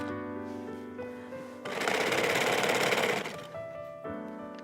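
A sewing machine stitches heavy tote bag fabric in one burst of rapid, even mechanical chatter lasting under two seconds, set between quieter stretches of low hum.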